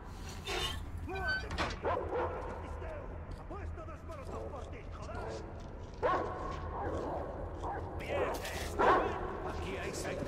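In Metro Exodus, angry dogs bark and yip in scattered bursts over a noisy, rumbling background, with someone talking over them.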